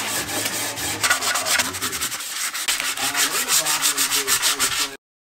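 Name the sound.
sanding truck bed camper wood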